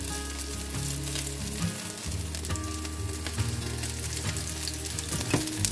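Meat patties fry in a hot pan with a steady, loud sizzle and crackle, joined by a low hum, intermittent spatter pops and a few scrapes as they cook; no voices.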